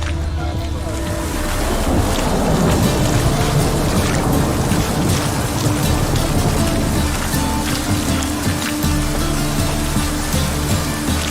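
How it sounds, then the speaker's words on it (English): Heavy rain pours down in the video game Witcher 3: a loud, steady, dense wash of falling water mixed with gusty wind, continuous and close throughout with no talking. "It's raining buckets."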